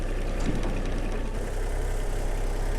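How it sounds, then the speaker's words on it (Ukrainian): A heavy diesel engine of a Mitsubishi MT170 tractor idles steadily up close, a low rumbling chug with constant knocking rhythm and no talking. "Так, Трактор у нас завівся."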